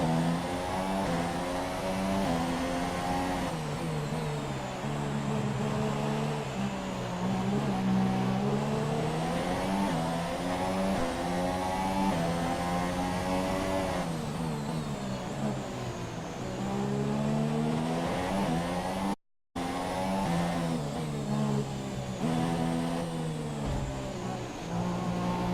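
Formula 1 race cars in the video game F1 2017 at Baku scream past at high revs, engine pitch rising and falling with gear changes, loud and continuous with a brief dropout near the end.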